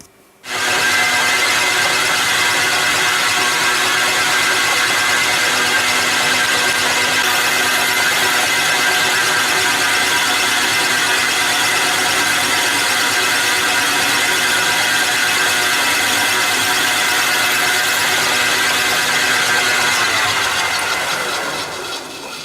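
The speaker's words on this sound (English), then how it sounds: "next thing to do will be to drill and thread this with the M5" A power tool whirs loudly and steadily for about twenty seconds, a constant high-pitched mechanical drone as metal is drilled for an M5 thread on a mini scissor jack, then winds down.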